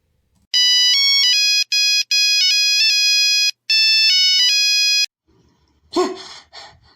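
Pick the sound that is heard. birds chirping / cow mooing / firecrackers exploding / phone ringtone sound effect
phone ringtone sound effect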